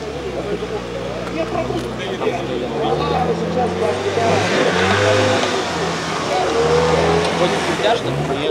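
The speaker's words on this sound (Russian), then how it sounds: "другие, как петрозаводчанин Александр, на городском джипе двухлетки китайского производства мягко и деликатно" A two-year-old Chinese-made city SUV laps a race track, its engine revving and easing off in smooth waves close by, while a narrator talks over it throughout.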